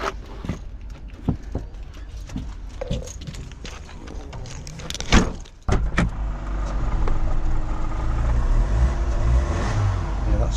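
At an auction, a Vauxhall Zafira seven-seater's engine struggles to rev. Scattered clicks and knocks come first, then a sharp thump, then a rough, droning engine note that builds and holds loudly for several seconds.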